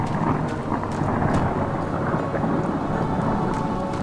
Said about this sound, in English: I heard thunder and lightning